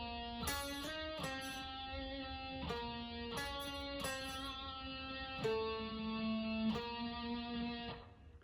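Distorted electric guitar chugs through a riff from Murder Drones in a metal remix style, a steady run of sustained, heavily saturated notes and chords with sharp attacks, played alone and up close over about eight seconds.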